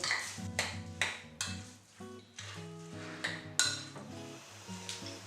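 A spoon stirs pumpkin filling seasoned with grated nutmeg, sugar and salt in a bowl, producing repeated bright clinks and scrapes against the bowl in an uneven rhythm, with soft music underneath.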